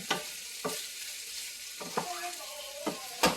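Fried pork shoulder is stir-fried with bell pepper and other vegetables in a pan: a soft background sizzle broken by several sharp scraping strokes of a spatula at irregular intervals, close by, with no speech.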